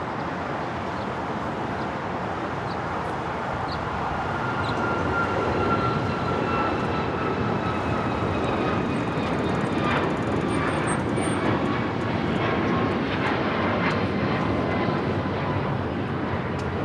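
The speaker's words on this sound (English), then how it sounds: "the Qantas A380 Super next to arrive on 24" A Qantas Airbus A380 arriving at LAX on runway 24 right, a steady broadband jet roar that swells slightly and holds, moderately near, with no talking.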